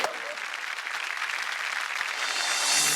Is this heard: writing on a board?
no